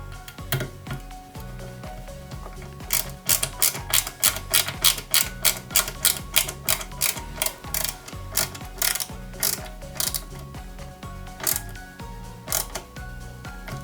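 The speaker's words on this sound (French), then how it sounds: "on y met une vis DM" A small DM screw is driven into a 1/8-scale Subaru Impreza WRC 2003 model kit, giving a close series of sharp ratcheting clicks in quick rhythmic runs with brief pauses.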